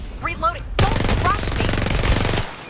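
Sustained automatic gunfire in Farlight 84, loud and close, a rapid continuous rattle of shots under an excited voice.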